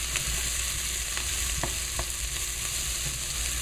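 Black-eyed peas cooking in a pan, a soft steady sizzle with a few light stirring taps, close and faint with no talking.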